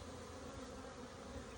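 Bees from small backyard hives and nucs, with drones and other bees flying nearby, make a steady close buzzing drone that holds level for the whole moment with no talk over it.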